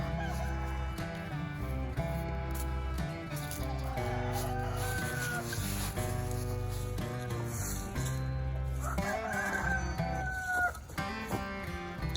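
Chickens cluck and a rooster crows in a backyard coop, fairly faint, with layered calls scattered over the stretch and other sounds around them.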